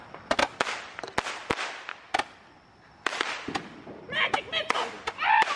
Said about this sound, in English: About to have this Roman candle war here because the entire neighborhood's asleep